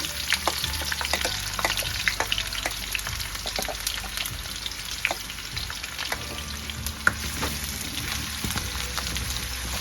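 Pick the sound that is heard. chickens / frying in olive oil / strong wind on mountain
frying in olive oil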